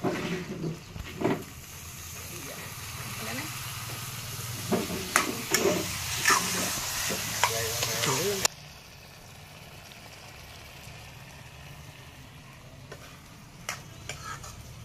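Ginger-garlic paste is loosened with a splash of hot water in a hot pan, sizzling loudly with spoon stirs and scrapes for about eight seconds, then dropping to a quiet simmer with occasional light clicks.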